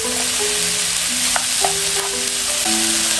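Beef stir-fried in a pan with onion and garlic, sizzling loudly and steadily, with spatula scrapes and stirring clatter close up and no talk.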